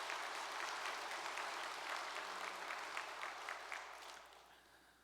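Sustained audience applause at a Korean church gathering, steady dense clapping from a large crowd that slowly fades toward the end, with no talk over it.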